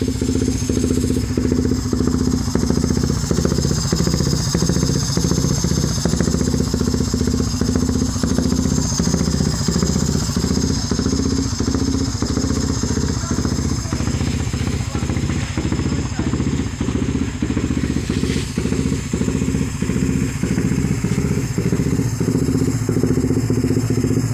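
A Suzuki Raider 150 Fi motorcycle engine with an ECU tune idles steadily with a rhythmic, lumpy pulse throughout, close by, with a bit of background clatter.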